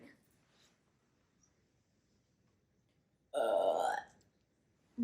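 A single loud, drawn-out burp voiced by a person imitating the sound, lasting under a second, after near silence.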